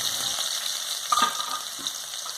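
Onions frying in a few spoons of hot oil give a steady, bright sizzle, with a few soft crackles and pops rising briefly near the middle.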